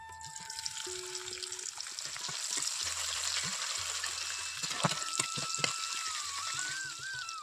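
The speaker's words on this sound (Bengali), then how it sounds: "তো পেঁয়াজটা ওদিকে লাল লাল করে ভেজে আদা রসুন বাটাটা দিয়ে দিচ্ছি।" Onions fry until reddish in a pan as ginger-garlic paste goes in. A steady, moderate sizzle runs throughout, with clinks and stirring clatter on top.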